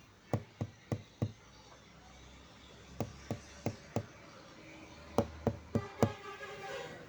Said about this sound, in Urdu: اب آدھی رات کو علی کو پھر دروازے کی آواز سنائی دے رہی ہے، جہاں پر کوئی دستک دے رہا تھا۔